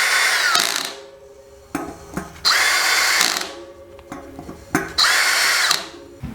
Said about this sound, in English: now we're just going to take the drill and tighten each bolt